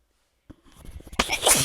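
One sharp human sneeze, close and fairly loud, bursts out after a brief quiet intake of breath and ends abruptly, with nobody speaking.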